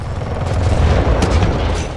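Gunfire in Titanfall 2 during an Attrition match, a dense run of booming shots and blasts packed close together, loud and continuous throughout with no clear gaps.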